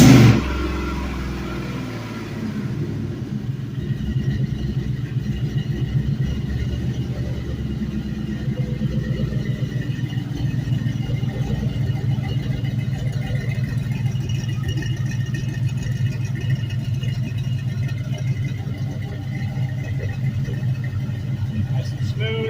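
A 5.3L LM7 V8 engine on a test stand gives a loud opening burst, then settles into a smooth, even idle that rumbles steadily close by for the rest of the run.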